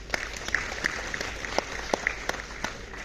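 Lions Club members applauding at a district gathering, a short burst of steady clapping from a mid-sized crowd in a hall, moderately loud with a few sharper individual claps standing out.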